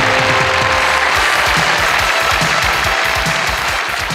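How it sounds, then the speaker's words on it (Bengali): A studio audience at a 2009 television variety show in Comilla claps loudly and continuously, a dense stretch of applause with no talk over it. "তাদের জন্য করতালি"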